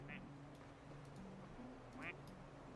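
Plastic rubber ducks in Placid Plastic Duck Simulator let out two brief, clear quacks, one near the start and another about two seconds later, over a quiet droning game soundtrack.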